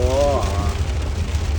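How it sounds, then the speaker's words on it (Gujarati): Heavy rain falls in Rajasthan as a dense, loud, continuous roar of drops on surfaces, with a voice briefly heard over it at the start. "ધમાકાદાર વરસાદ છે"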